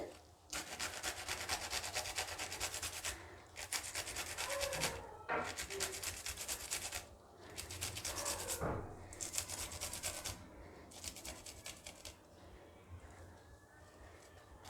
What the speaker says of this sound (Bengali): আমি একটা লঙ্কা ঘষে দেব পাতলা পাতলা করে এরকম ঘষে দিলে খুব পাতলা পাতলা হয়ে যাবে